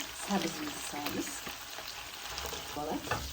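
Meat, onion and carrot frying on low heat, a gentle, steady sizzle with occasional stirring scrapes, close but fairly quiet, with faint voice traces beneath.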